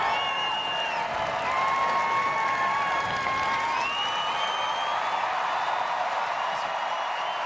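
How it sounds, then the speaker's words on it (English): A crowd at a Westminster Kennel Club dog show applauds and cheers in a continuous, dense wash of clapping and whoops, with an announcer's voice faint underneath. "Crowd's getting into it."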